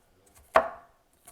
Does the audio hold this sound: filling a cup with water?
no